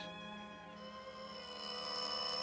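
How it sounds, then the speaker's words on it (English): A doorbell rings continuously in an old radio drama, a bright, sustained metallic ringing that swells slightly louder over a couple of seconds. "they stood there ringing my bell for 5 solid minutes before they woke me up"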